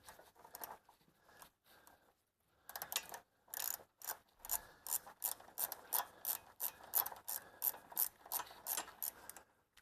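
Ratchet clicking as it backs out a 10 mm bolt on a Toyota Camry strut during lower control arm work, a close series of sharp rapid ratcheting bursts with short pauses, no talk.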